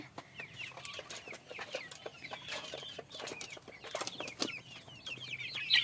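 Hens and young chickens clucking and chirping around a raised coop on a farm in the Sundarbans, a busy stream of close, overlapping calls with occasional wing flaps.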